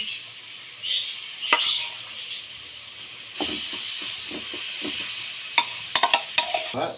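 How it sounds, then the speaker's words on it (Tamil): Garlic and mustard seeds fry in hot oil for chicken chukka, a steady sizzle and hiss with scattered sharp spluttering pops, a cluster of crackles near the end. "கடு பொரிஞ்சு வருது. இப்போ தான் பூண்டு வந்து இதை போடணும்."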